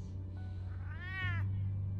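A cat meows in the Telltale Batman video game, one drawn-out rising and falling meow over a low steady hum, with no talking.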